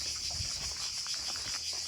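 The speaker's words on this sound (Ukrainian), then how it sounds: "Цикады. Вот я ни в одной стране не видела их столько. Слышите?" Cicadas on the Montenegro coast drone in a dense, steady high-pitched buzz that fills the whole stretch without pause, with no voices over it.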